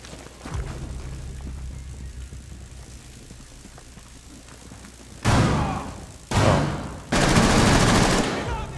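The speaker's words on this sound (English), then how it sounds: "I don't know how he's shooting me through the goddamn shield." Gunfire from the game Rainbow Six Siege in a team deathmatch on the Chalet map, starting with a muffled thump, then three loud, close bursts of rapid automatic fire, each lasting about a second.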